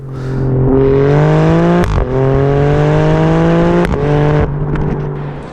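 Alfa Romeo Stelvio Quadrifoglio engine warming up, a loud steady drone close by with a few brief throttle blips that lift the pitch and briefly drop away, then settle back into the idle hum.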